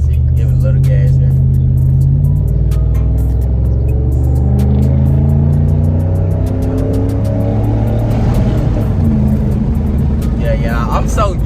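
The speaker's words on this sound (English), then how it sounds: "See, give it a little gas here." Ford F150 with a 5.0 engine and a muffler delete, revving loud and close: deep droning exhaust rising and falling in pitch through several throttle pulls, with a faint voice under it.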